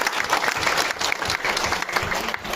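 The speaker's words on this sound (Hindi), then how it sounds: "तालियां बजाओ, तालियां।" Audience at an Independence Day cultural program applauding, a dense, loud wash of clapping that holds steady throughout with no gap.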